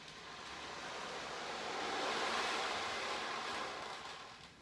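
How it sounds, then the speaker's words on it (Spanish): Sea waves at a beach give a soft, continuous hissing wash that slowly swells and fades, distant and gentle, with no voices. "el ruido del mar, cómo juegan las olas con el viento"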